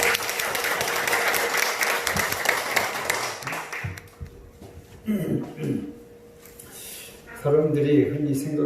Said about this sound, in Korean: 우리 환영의 박수 한번 해줄까요?